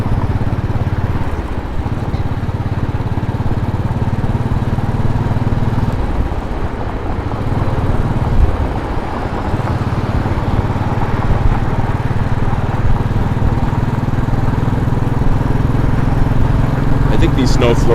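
A motorcycle engine drones steadily while riding in New York during snow flurries, a low continuous rumble with slight shifts in pitch, with wind noise over it.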